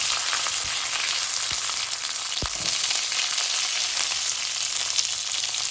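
Garlic, green chili and onion fry in oil for a mango and tomato fish curry, a loud, close, constant sizzle with a few soft knocks of a utensil against the pan and no voices.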